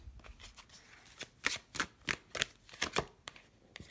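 Tarot cards are riffled and shuffled by hand in a steady run of crisp, quiet flicking bursts, close up with no talking.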